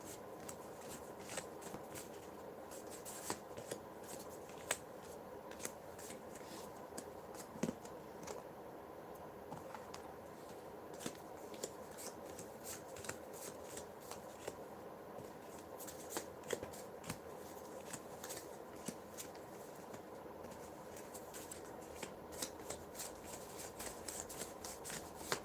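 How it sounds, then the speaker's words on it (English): Playing cards are shuffled over and over, a soft, continuous riffling and flicking with frequent sharp snaps, fairly quiet and close, with no talk. "So let's just use that shuffling technique right now."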